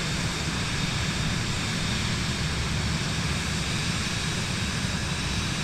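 Vision Jet engine in Microsoft Flight Simulator 2024 on PS5, a steady, loud broadband roar with a low rumble, held constant and unbroken throughout with no voices.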